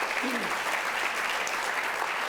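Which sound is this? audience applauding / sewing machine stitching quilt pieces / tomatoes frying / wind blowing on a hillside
audience applauding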